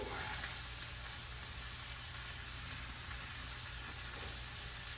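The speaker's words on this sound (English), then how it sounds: "So we're gonna let that sear for just a minute, let it get some good color on there." Pork loin searing in a hot pan, a loud, steady, close sizzle with a constant low hum beneath it, no voices.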